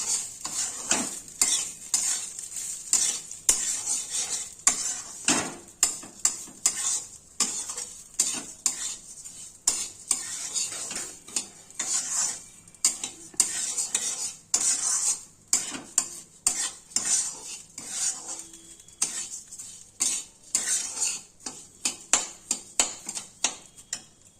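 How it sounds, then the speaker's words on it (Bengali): Fried lentils and rice for khichuri are stirred and sautéed in a pan with a spoon, giving a steady, rhythmic run of close scrapes and clinks over a soft continuous sizzle, with no talking. "ভেজে রাখা ডালগুলো দিয়ে দিলাম। সুন্দর করে কষতে হবে।"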